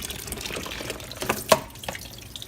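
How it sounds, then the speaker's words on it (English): Water pours into a plastic tub from a tap, a steady close splashing rush with small drips and gurgles, the tub being filled to test a pump for a wet/dry sump trickle filter. "got our tub filling up here"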